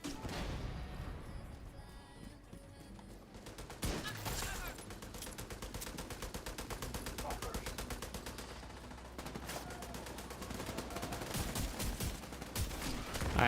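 Gunfire from The Division 2 rattles in rapid automatic bursts, dense, loud and nearly continuous, with brief pauses between strings of shots and a heavy bang early on.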